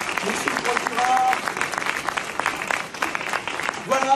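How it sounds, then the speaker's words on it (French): Audience at a mock trial staged at a congress clapping in a mixed crowd of applause, with voices talking over it and a few sharp nearby claps standing out. "Je crois qu'on peut vous applaudir."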